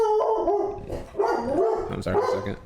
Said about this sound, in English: That was my dog attacking the predator coming in.